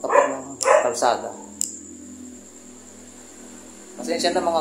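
Dogs bark in sharp bursts, three quick barks, then a lone yelp, then a pause over a steady electrical hum, and then more barking near the end, fairly close and loud.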